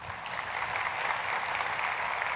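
An audience applauds in a steady, dense wash of clapping throughout, fairly distant in a large hall.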